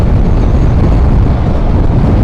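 Loud wind rushes against a rider on a 2025 Yamaha XMAX scooter on the road from Bangkok to Phetchaburi, a continuous low buffeting roar with no talk.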